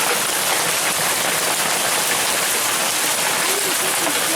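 Heavy rain and hail pour down during an Arizona thunderstorm, a dense, steady roar of drops and pellets hitting surfaces, loud and unbroken throughout.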